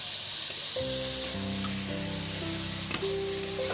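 Freshly picked, sliced tomatoes dropped into a hot frying pan while cooking chicken pota: a steady, close sizzle and hiss, with a faint hum underneath and no talking.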